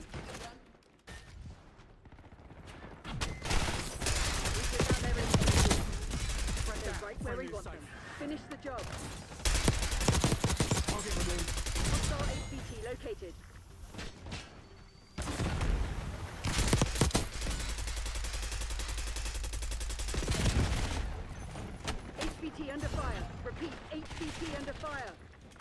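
Sustained bursts of video game gunfire and rapid automatic fire in a military shooter, loud and dense across much of the clip, with brief lulls and players talking over it.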